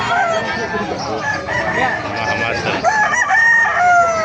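Several roosters crowing and overlapping at a market in Bocaue, loud and close, with clucking and background chatter mixed in.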